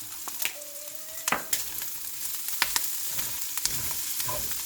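Garlic sizzles and crackles in a hot pan for several seconds while a utensil stirs it, with sharp scraping clicks against the pan at irregular intervals over a continuous frying hiss, close up and fairly loud.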